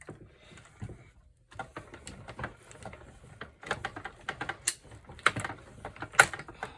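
A manual die-cutting machine rolls a base plate and two staggered cutting plates through its rollers for a folded craft card, giving a series of close clicks, creaks and mechanical knocks with irregular rhythm.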